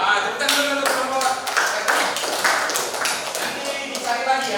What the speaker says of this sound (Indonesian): tepukan dulu untuk kelompok